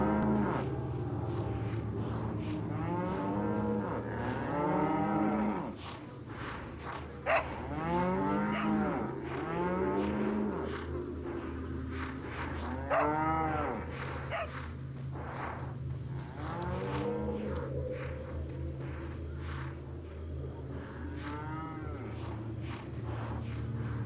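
Several cows moo repeatedly over a steady low background hum in Resident Evil 4 VR, their calls overlapping at a moderate distance.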